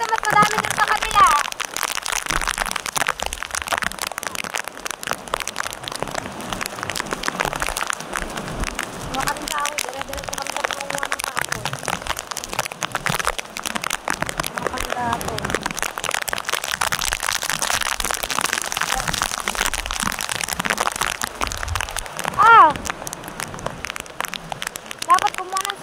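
Steady rain falls outdoors during firewood gathering, a dense continuous patter on surfaces lasting throughout, with people talking now and then over it.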